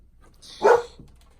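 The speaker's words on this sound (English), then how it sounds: "can you not bark?" A dog gives a single short bark at close range, standing out briefly against an otherwise quiet indoor background with no talking.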